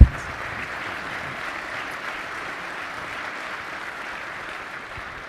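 Steady audience applause at a military symposium fills the hall, dense and sustained at an even level throughout, with no one speaking over it.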